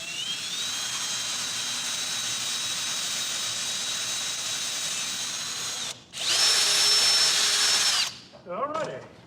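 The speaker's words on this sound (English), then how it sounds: "I'm going to attempt to drill a hole" A power drill bores a hole for leather cord while building a diddley bow guitar, a loud steady whine running several seconds before a brief stop, then a harsher, higher burst and a few short sputtering revs at the end.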